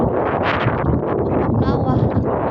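Strong wind buffeting a microphone on a mountain, a rough, gusty roar in short bursts, loud and close, with a person speaking through it.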